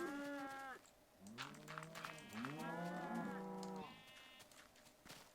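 Cattle mooing in the Minecraft game with the Thaumcraft mod: several drawn-out, wavering moos overlap and follow one another over a few seconds, loud and close, with no talking.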